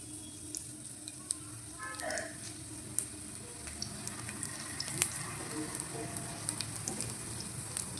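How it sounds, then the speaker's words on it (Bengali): Oil sizzles steadily in a kadai as chopped garlic fries, a constant crackling hiss punctuated by occasional sharp taps and clinks of a utensil stirring. "এবার আমি রসুন কুচিটা অ্যাড করব।"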